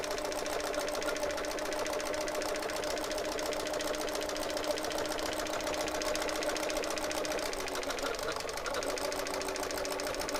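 Quilt blocks being joined on a sewing machine that runs continuously with a fast, even, close-up mechanical whir and rattle that stays level from start to finish.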